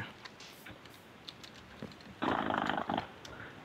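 Tamed wolves in a Minecraft hunger games match give a short, dense burst of game-dog noise lasting under a second, standing out over quiet background clicks.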